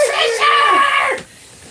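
A human voice imitating the scream of an invisible creature, a loud, shrill, wavering shriek that slides downward and cuts off after about a second.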